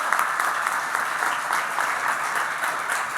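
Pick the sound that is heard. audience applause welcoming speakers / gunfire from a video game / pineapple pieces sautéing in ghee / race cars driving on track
audience applause welcoming speakers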